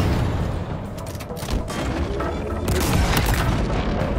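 A rocket launcher shot in Halo Infinite bursts into a deep booming explosion, loud and rumbling, followed by more blasts and heavy combat noise with no talking.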